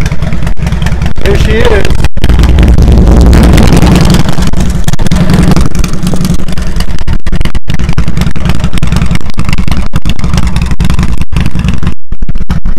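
A Harley-Davidson motorcycle engine runs after starting, a loud, close, rumbling low throb with wind buffeting the microphone and someone briefly speaking over it.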